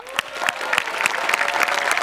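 Studio audience at a Marathi comedy show breaking into loud, sustained applause, dense clapping filling the full two seconds with no talk over it.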